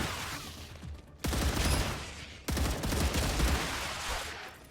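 Video game gunfire against swarming mobs, rapid automatic bursts in two long loud stretches, each starting abruptly after a short lull.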